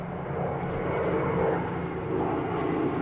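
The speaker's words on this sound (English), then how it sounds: "2 P-51 Mustangs flew astride an A26 Invader" Two P-51 Mustangs and an A-26 Invader pass overhead at a military burial at Arlington, producing a sustained droning piston-engine roar that swells slightly and holds steady throughout.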